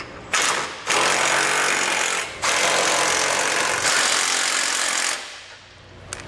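Impact-style power tool buzzing in loud sustained bursts as it snugs down the bolts of a Curt trailer hitch receiver on a 2011 Chevrolet Express, two long runs separated by a brief pause.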